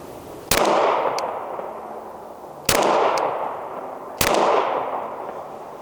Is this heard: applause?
no